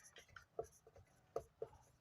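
Faint chalk or marker strokes on a classroom board during a Hindi grammar lesson, with a series of short, irregular taps and scratches that are quiet and close, with no voice over them.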